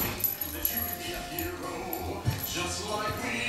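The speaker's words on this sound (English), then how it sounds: "Look at these ferocious doggies." Alaskan Malamute dogs whimper and yip softly near small children, the thin whines coming and going under people talking nearby.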